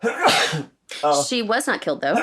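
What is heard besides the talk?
sneeze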